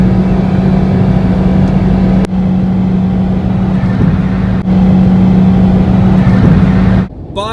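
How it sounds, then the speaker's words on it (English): A Nissan Cube small car with a CVT transmission driving, a steady loud engine drone and hum with a strong low tone running nearly unbroken, briefly dipping twice, then cutting off near the end. "For a small car, the Cube also makes a lot of noise. Now part of that is due to the CVT transmission."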